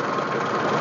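A tractor engine idles steadily before pulling a seed drill loaded with wheat seed and fertilizer into a field. The rumble is close, even and continuous, with no voices.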